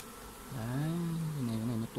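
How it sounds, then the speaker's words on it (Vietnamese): Honeybees buzz around a mini queen-mating hive box: a loud, close, wavering drone that swells in, dips and rises again, then cuts off abruptly with no speech. "Thế này ta đã được một cái đàn ong,"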